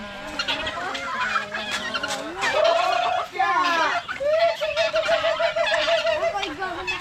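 Chinese chicken, a fighting fowl, clucking and squawking close by in several uneven bursts, with people talking beneath and between the calls.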